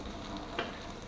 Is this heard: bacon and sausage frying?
yes